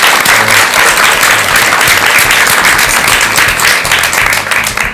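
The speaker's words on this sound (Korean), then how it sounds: "여러분 큰 박수 다시 한번 부탁드리겠습니다" Loud, sustained applause from a large audience, dense clapping filling the space and holding steady before beginning to fade.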